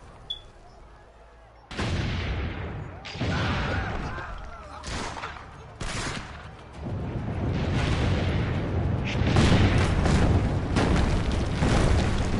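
Cannon fire in Assassin's Creed Brotherhood, a run of heavy booms and rumbling blasts through the siege outside the town walls, loud and near with a dense battle din between shots.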